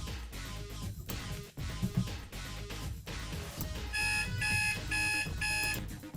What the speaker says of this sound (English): whoops, I forgot to turn my alarm clock off